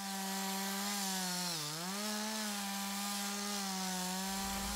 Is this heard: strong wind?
no